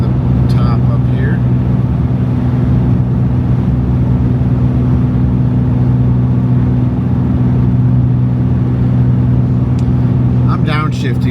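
Steady, loud engine drone from inside a vehicle climbing a snowy mountain pass in the cold, holding a constant low rumble throughout with faint voices at the start and end.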